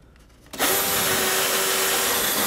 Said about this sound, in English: I'm ready to drill my holes now.